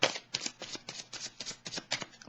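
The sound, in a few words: oracle card being drawn from a deck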